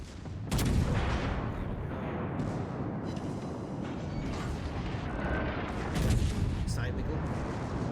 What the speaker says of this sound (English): Taking fire from both Warships.